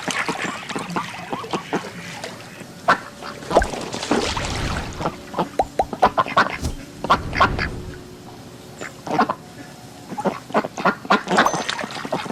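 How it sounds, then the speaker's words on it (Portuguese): Farm duck quacking repeatedly in loud, raspy bursts, up close, with splashing water and other birds calling around it, no talking. "Pato. Duck."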